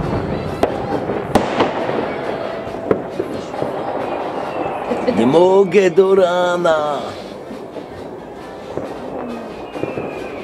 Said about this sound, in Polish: Kaś walą petardami w koło.